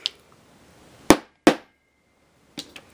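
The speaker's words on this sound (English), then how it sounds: "I use a little um, tack hammer right here and tap that down" A small tack hammer taps a dowel a few times: two sharp knocks close together, then a pair of lighter taps, with quiet pauses between.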